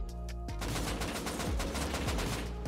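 Rapid bursts of AK rifle fire in the Rust video game during an oil rig fight, repeated sharp cracks layered over constant loud background noise with no talk.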